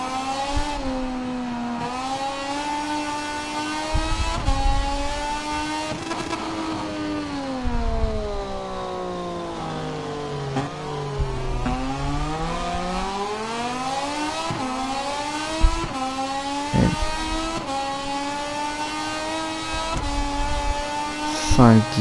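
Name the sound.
motorcycle engine revving in a motorcycle racing video game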